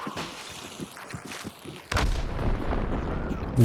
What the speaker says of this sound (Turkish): Ne büyük dinamit paketi almış bir tane.